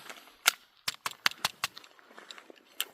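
A Taurus GX4 carry pistol fires a quick series of sharp, cracking shots, about half a dozen in rapid succession, followed by a few scattered reports. The shots sound somewhat distant and fairly faint.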